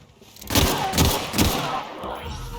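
Shotgun blasts in the video game Outer Worlds: three or four loud, booming shots spaced about half a second apart, each trailing off with a rumbling decay amid game ambience.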